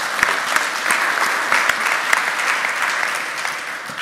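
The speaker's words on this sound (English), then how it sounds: "let's give Joost a round of applause for that demo" Audience applause following a live software demo at a tech conference talk, a steady round of clapping with scattered sharper claps, heard on its own without speech.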